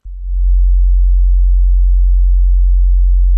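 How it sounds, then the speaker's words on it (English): A pure, deep, steady 45 Hz sine wave tone from a kick drum synth built in Pure Data on a Raspberry Pi starts abruptly and holds unchanged, alone, with no other sounds. "The core of my kick sound is a sine wave oscillator."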